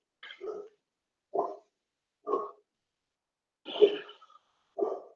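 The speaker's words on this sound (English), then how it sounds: "dogs are barking in the background." Dogs bark in the background, a series of five short separate barks spread evenly with gaps of quiet between them, fairly distant and moderately soft, with no talking over them.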